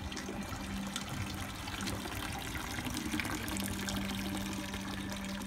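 A small decorative garden pond fountain in a store's garden section trickles and splashes steadily, a soft continuous flow of water with a faint background hum.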